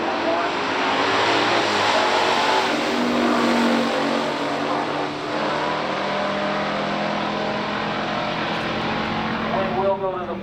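Engines of a 1971 Ford Mustang 429 automatic and a 1967 Chevrolet Impala SS roar steadily at a pure stock drag race, a loud continuous drone with a track announcer talking over it throughout.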